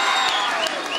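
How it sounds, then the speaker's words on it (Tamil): An audience at a Tamil comedy debate breaks into a brief burst of dense clapping, close and loud. "ஒரு பெரிய கரகோஷம் கொடுத்து வாழ்த்துறேன்."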